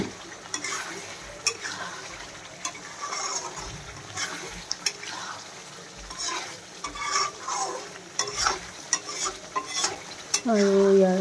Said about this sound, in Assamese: আৰু এতিয়া মই পনীৰখিনি ধুনিয়াকৈ মিক্স কৰি লৈছো